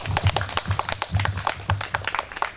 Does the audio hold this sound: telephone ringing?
no